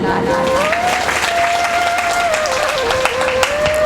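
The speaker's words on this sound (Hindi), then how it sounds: "ऐसे भक्तों के लिए जोरदार ताली" A congregation at a Krishna devotional katha breaks into vigorous applause, a continuous wash of clapping from many hands, loud and steady, with a sustained melodic tone running beneath.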